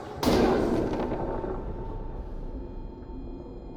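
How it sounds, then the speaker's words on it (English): A barrel is shot and explodes in the horror game Amnesia: The Bunker, giving one sharp, loud blast that trails off into a long rumbling decay with no talking. "shoot the barrel"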